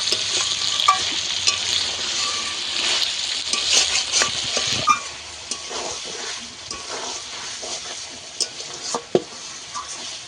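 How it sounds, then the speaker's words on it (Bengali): Chicken skin stir-fries in released oil in a pan, a close, bright sizzle with frequent scraping stirs and occasional sharp clicks of a utensil, continuing without talk. "আমি কিছুক্ষণ কষাতে তেল ছেড়ে গেছে, আরো একটু কষিয়ে নেব।"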